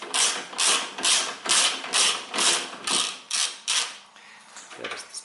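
A ratchet wrench loosens 10 mm bolts on a front-wheel-drive car during a clutch replacement, giving about nine close, steady bursts of rapid clicking in an even rhythm that thin out and trail off near the end.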